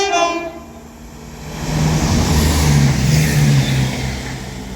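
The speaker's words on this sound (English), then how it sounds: "Now passing through is going to be an East Midlands Railway Class 170 with the 1439 East Midlands Railway service to Crewe" An East Midlands Railway Class 170 diesel train passes through Longport on the West Coast Main Line, its horn sounding briefly before the engine drone and wheel rumble swell loudly and hold steady as it goes by.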